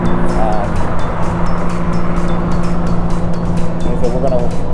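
A motorcycle cruising on the open road toward Charlotte, North Carolina, during a biker roundup trip: a steady, close engine drone with strong wind rush, holding loud and even throughout.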